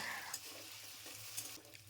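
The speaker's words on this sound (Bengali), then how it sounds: "এখানে আলুগুলো একটু ভেজে নেব" Potatoes fry in a pan with a soft, continuous sizzle and light stirring scrapes, quiet and close, with no talking.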